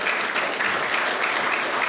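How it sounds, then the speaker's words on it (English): A congregation claps during a church service, a brief, full and steady burst of applause filling the whole moment. "You can clap to that"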